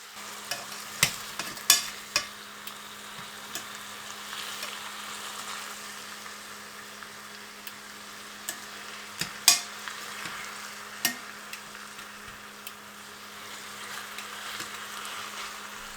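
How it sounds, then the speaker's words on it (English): Soft, steady sizzling of chicken pieces sautéing in a pot, with occasional clinks and scrapes of a utensil stirring, fairly quiet and close. "Sauté the chicken until the pieces are no longer pink on the outside."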